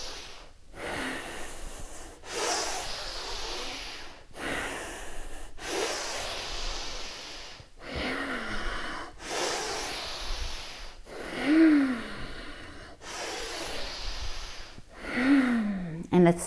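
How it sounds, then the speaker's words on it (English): Forceful yoga breathing in a breathing exercise: strong rhythmic inhales and exhales through the nose, each lasting about two seconds, repeated close up, with some breaths carrying a slight voiced tone. "This is a breathing exercise, not necessarily a movement."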